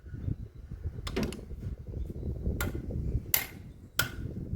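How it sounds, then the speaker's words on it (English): A click-type torque wrench is tightened smoothly until it reaches its set torque of 85 foot-pounds, giving several crisp, close metallic clicks over a low background rumble. "as soon as it clicks"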